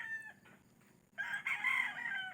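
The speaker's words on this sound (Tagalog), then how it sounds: "Ito po yung kanyang mga alagang namang mga sasabungin." Gamecock roosters kept for cockfighting in Cavite crow and cluck nearby, a soft call first and then a loud, drawn-out cock-a-doodle-doo over faint background noise.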